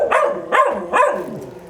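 A puppy barks three times in quick succession, sharp and close, each yip rising then dropping, with no talking over it.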